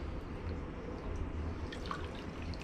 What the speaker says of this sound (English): And give that a nice stir